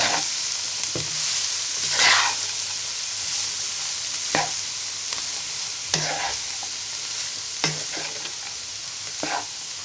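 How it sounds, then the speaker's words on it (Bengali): Cabbage frying in a pan while being stirred with a spatula, a continuous bright sizzle punctuated by regular scraping strokes every second or two, close and steady with no speech. "এবার বাঁধাকপিটাকে ভালো করে নেড়ে নিব"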